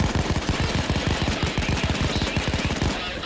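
Rapid automatic gunfire in the heist shooter PAYDAY 2, an unbroken, evenly spaced stream of loud shots that carries on for about three seconds with no talk over it.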